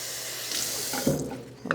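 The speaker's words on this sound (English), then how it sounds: "Pop the lid off, top it up with water or your paint," Water pouring from a tap into a spray gun paint cup, a close, steady splashing rush that shifts and gurgles as the cup fills, ending with a brief splash.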